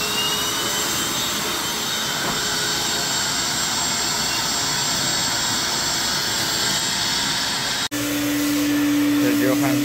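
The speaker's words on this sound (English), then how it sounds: "Right now it's vacuuming everything." A vacuum runs steadily and loudly while cleaning a small sofa during upholstery cleaning, a continuous whine broken briefly near the end before resuming with a shifted tone.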